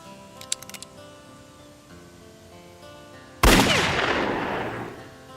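A single loud gunshot from a cowboy film cracks after a few faint ticks and quiet background tones, its blast decaying slowly with a long echoing tail.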